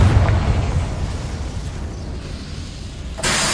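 A Confringo blasting spell from a video game goes off as a deep, rumbling explosion that swells loud at first and slowly decays, then a brighter burst of noise cuts in near the end.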